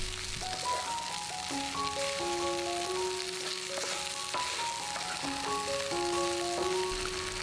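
Cold cooked rice for ketchup chicken fried rice frying in a hot pan, a steady soft sizzle and crackle running continuously under a gentle background melody, with no talking.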